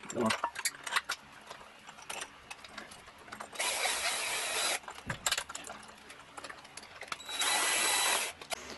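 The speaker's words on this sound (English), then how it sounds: "we're gonna use a socket wrench here and tighten this up" A socket wrench tightens a bolt on a rubber roller DC dynamo for an exercise bike, with two long bursts of loud ratcheting mechanical noise, separated by quieter handling sounds and brief pauses.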